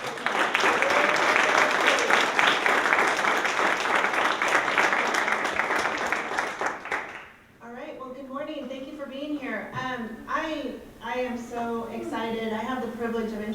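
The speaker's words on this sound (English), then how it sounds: "please give Melinda a big applause" An audience applauds Melinda at a Relay For Life kickoff event, a loud, sustained burst of clapping for about seven seconds that ends abruptly, followed by someone talking alone.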